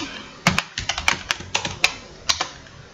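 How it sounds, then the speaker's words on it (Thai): A computer keyboard clicks as the diskpart command is typed, about a dozen crisp, close keystrokes in quick irregular bursts with no talking. "ทีนี้ให้เราพิมพ์นะครับผม พิมพ์คำว่า d i s p a t"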